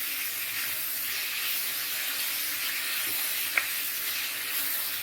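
Onions sauté in hot oil for a Chettinad chicken curry, giving a constant soft, hissing sizzle with barely any variation. One faint click stands out near the end.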